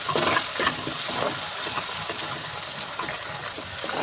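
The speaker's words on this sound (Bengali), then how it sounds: "এখন দিয়ে দেবো নুন, ভালো করে কষিয়ে নেবো।" Ginger, garlic and green chili with salt sautéing in a pan, a dense, loud hissing sizzle with occasional stirring, close up and continuous, no voices.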